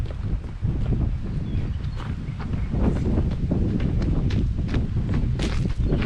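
Strong wind gusts outdoors, a loud continuous roar buffeting the microphone with occasional knocks and rattles throughout.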